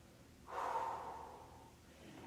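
One audible breath taken during a full-body stretching exercise, a single airy exhale lasting about a second that fades out in a quiet room.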